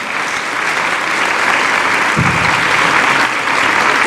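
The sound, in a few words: audience applause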